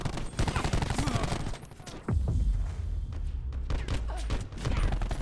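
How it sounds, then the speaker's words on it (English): Gunfire from a gun in a first-person shooter video game, bursts of rapid shots and bangs interrupted by a brief pause, with some talk in the background. "Unlimited bullets. Unlimited bullets in this gun."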